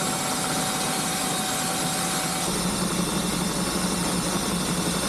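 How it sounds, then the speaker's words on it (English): An electric drill spins a magneto part from a vintage Caterpillar D2 dozer against sandpaper, giving a steady high whine and grinding hiss that runs unbroken at close range. "I guess I'm going to stick it in here and turn it with the drill."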